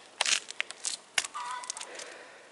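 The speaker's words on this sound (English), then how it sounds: "You can hear the chickens are going crazy." Backyard chickens cluck and squawk in short, agitated bursts, several calls overlapping at moderate distance outdoors, with a sustained lower call near the end and some faint rustling between.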